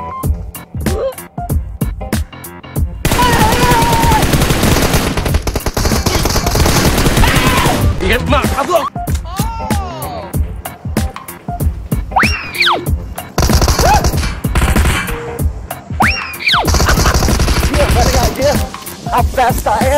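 Loud, dense automatic gunfire from the video game PUBG Mobile fills the mix in long sustained bursts with short gaps, overlaid with game effects and tonal sounds.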